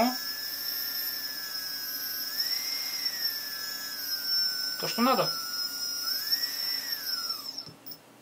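A small electric motor on a ZOHD Dart 250G model plane, driven by an old speed controller, whines steadily at a high pitch, its tone rising and falling as the speed changes, with a brief spoken remark partway through.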